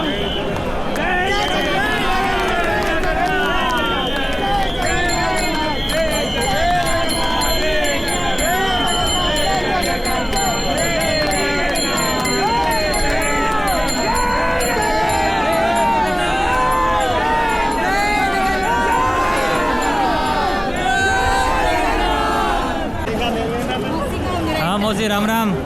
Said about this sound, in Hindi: भीड़ बहुत, करोड़ों का भीड़ है